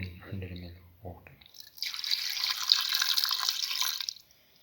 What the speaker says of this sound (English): Pour in 100 ml of water.